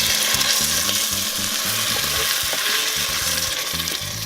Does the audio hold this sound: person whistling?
no